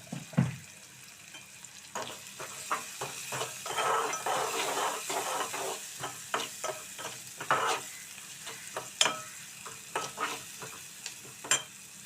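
Ingredients with turmeric frying in a pan for a brinjal and clam curry, a steady soft sizzle with repeated scraping stirs of a spoon at a close, even pace.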